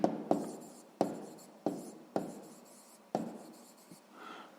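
A pen scratches out a sixth-grade maths exercise on paper in a string of about six quick strokes, each starting with a sharp scrape and fading, close and clear with no talking.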